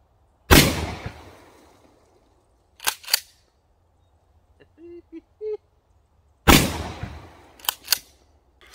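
A Dickinson Commando shotgun fires birdshot at a board from about 15 to 20 yards at an outdoor range: two loud, sharp blasts several seconds apart, each followed by clattering mechanical clicks and faint rustling between.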